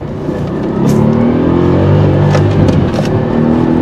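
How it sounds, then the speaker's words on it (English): A revving Aston Martin V8 Vantage AMR roars steadily up close in track setting, with sharp crackles and pops breaking through the exhaust note. "the track setting is where it makes most of the noise, the sort of crack and pop and the banging"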